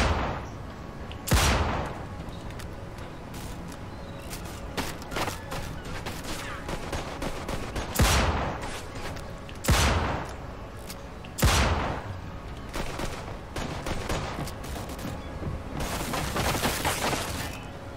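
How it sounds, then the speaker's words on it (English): Gunfire in the video game Mafia II, a shootout with sharp, loud shots scattered across the scene, some single and some in quick bursts, over a steady background din. "That's Steve over there shooting like that."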